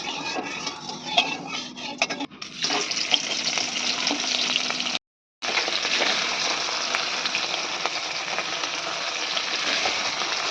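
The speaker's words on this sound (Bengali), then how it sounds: "বাটা মাছ ভাজা তো রেডি হয়ে গেছে।" Bata fish sizzling in hot oil in a wok, with a steady, dense frying hiss and occasional clinks of a utensil stirring against the pan, broken by a brief cut of silence midway.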